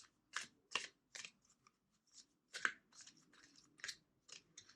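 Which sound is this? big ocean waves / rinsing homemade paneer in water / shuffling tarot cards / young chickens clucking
shuffling tarot cards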